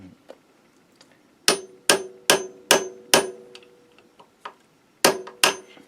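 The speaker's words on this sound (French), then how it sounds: "un petit tournevis assez pointu et un petit coup de marteau sur la périphérie là" A hammer taps a pointed screwdriver to cut a notch in the edge of a motorcycle camshaft, giving sharp metallic clinks in uneven bursts. Several strike close together, a pause follows, then two more come, loud and near with no speech.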